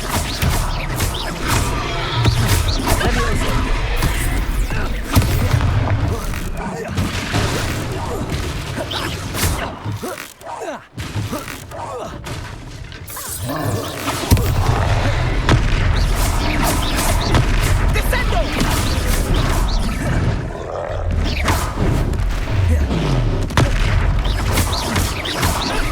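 Hogwarts Legacy spell combat plays out as a dense run of booming blasts, crashes and whooshing magical impacts. The action is loud and nearly continuous, drops briefly about midway, and a voice calls out over it.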